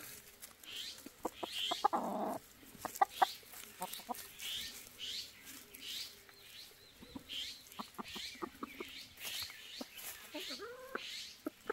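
Backyard hens of the Araucana-type green-egg breed cluck in soft, scattered bursts while pecking at young weeds in a weekend coop, with a few louder calls and a person talking quietly under them.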